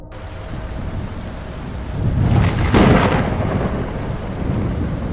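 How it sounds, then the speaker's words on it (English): Thunderstorm sound effect: continuous heavy rain hiss builds as a deep rolling thunderclap swells and peaks near the middle, then rumbles on beneath the steady downpour. "The storm was unlike anything humanity had ever seen."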